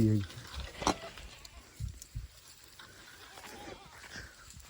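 Goats bleat among a farm herd outdoors, a few short bleats early and around the middle, fairly near, with people talking and rustling in between.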